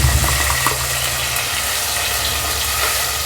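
Thick ground tomato and green chili paste poured into a hot pan, a steady wet gushing sizzle, loud and close, with no talking.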